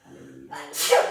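A single close sneeze during a Latin choir rehearsal, preceded by a short hum and breathy intake that builds into a sharp, loud burst at the end.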